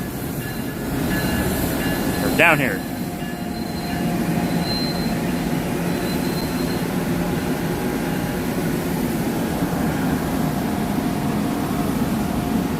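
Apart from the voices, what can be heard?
train at station platform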